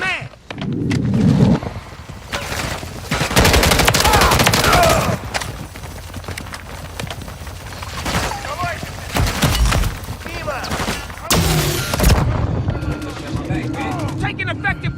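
Loud, dense gunfire in the video game MW3 Zombies comes in rapid automatic bursts and cracking shots, with sharp impacts and breaking sounds mixed in, while voices talk over the shooting.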